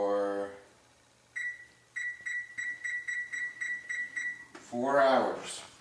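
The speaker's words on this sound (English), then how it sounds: "I'm setting the timer here" An oven timer gives a run of short, evenly spaced electronic beeps as buttons are pressed, with someone talking briefly before and after.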